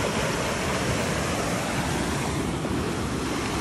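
River water rushing through Kalam Valley in Swat, a loud, dense, unbroken roar of flowing water close by with no voices, steady for the whole stretch.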